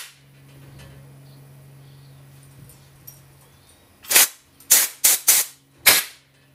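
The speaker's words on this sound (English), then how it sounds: "then you take your air compressor and blow through the jets" Compressed air from an air compressor blasts through Briggs and Stratton carburetor jets in five sharp, loud hissing bursts after a quiet stretch of low background hum.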